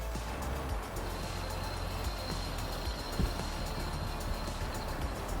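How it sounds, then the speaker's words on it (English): A motorised bicycle's small engine runs steadily and loudly, a constant buzzing drone much like a radio controlled car, with rumbling road noise underneath and a brief thump midway. "So it sounds like a radio controlled car, and it's pretty noisy."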